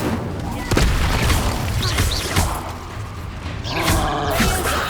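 Expulso spell explosions go off during combat in the Hogwarts Legacy video game, heavy booms with creaking and rumbling effects and a swell of blasts near the end, while voices speak over the action.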